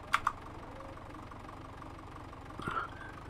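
A tractor engine in a farming video game runs at a steady low idle. Two quick clicks come near the start, and the engine note swells briefly toward the end.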